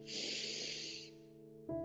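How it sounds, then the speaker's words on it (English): A deep nasal sniff drawn steadily through the nose during a yoga breathing exercise, a breathy hiss lasting over a second, then a brief tonal sound near the end; close and fairly quiet, with no talking. "You might even sniff through your nose just to exaggerate that sensation here at first."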